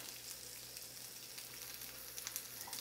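Green beans roasting in olive oil in a pan, giving a steady soft sizzle with faint crackles that holds evenly throughout, low in level and without any talk.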